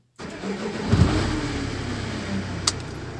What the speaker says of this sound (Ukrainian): І машина в нас завелася